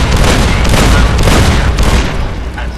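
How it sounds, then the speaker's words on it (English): A Securitron's M235 missile launcher fires in Fallout: New Vegas, a loud cluster of booming explosive blasts rolling together over a few seconds before easing into a fading rumble. "The M235 missile launcher gives the Securitron"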